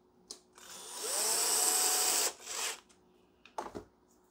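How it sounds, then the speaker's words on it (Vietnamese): Plastic cap being screwed tight on an HP CF279A toner cartridge during refilling, a sustained grinding, rasping twist lasting over a second, then a shorter scrape and a few faint clicks, close and alone. "Rồi đậy nắp lại, sau đó thì siết nắp luôn."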